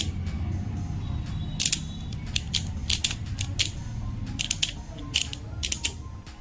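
Sharp bursts of rapid clicking from the burst mechanism of a homemade Dranzer Beyblade built from PVC pipe, several short clusters over steady background hiss.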